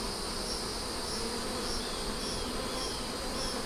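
Honey bees swarm around an opened hive, a dense, continuous buzzing close by that holds steady and loud from start to finish with no voices.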